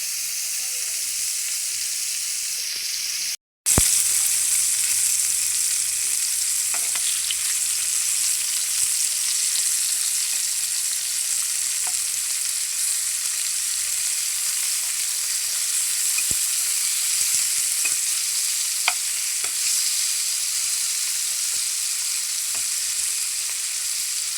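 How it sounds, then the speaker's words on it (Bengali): Chicken pieces fry steadily in hot oil in a pan, a continuous close sizzle that carries on without pause, with only a short silent gap near the start and faint utensil scrapes now and then. "এদিকে আমার মুরগিটা ভাজা হয়ে গেছে"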